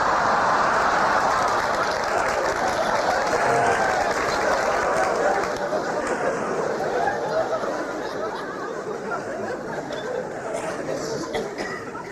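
Steady applause from a live comedy audience at a 1979 televised stand-up show, a dense continuous wash of clapping that fades slightly toward the end, with faint crowd murmur mixed in.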